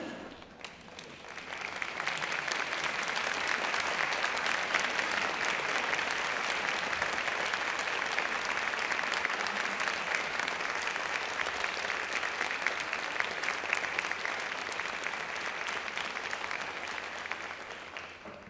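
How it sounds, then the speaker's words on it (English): Sustained applause fills an Oxford University degree ceremony as guests stand and clap steadily for about sixteen seconds, building quickly and holding loud and even before tapering slightly. "give that round of applause to your families"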